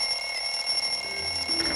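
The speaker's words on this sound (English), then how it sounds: "Still managed to take that alarm with me though." A steady electronic alarm clock rings continuously in the video game Bully, a constant high-pitched buzzing tone that holds evenly throughout at moderate loudness.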